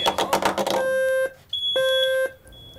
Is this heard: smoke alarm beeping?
yes